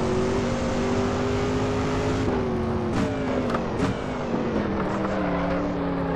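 A race car engine in the Assetto Corsa racing game screams at high revs near top speed, its steady harmonic whine dipping briefly through a gear change, loud and continuous.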